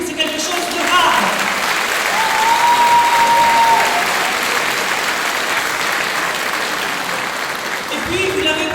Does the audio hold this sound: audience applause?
yes